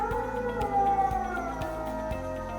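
Dogs howl in long wavering tones at night, with a steady repeated thumping beneath, close and fairly loud with no talking.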